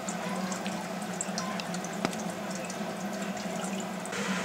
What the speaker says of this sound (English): This is the perfect opportunity to rinse all the dirt out of my funnel.